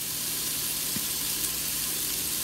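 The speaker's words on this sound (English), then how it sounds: "Now we are searing the bacon" Bacon sizzles steadily in an Instant Pot, a constant broadband hiss of frying fat with a faint low hum underneath and no talk.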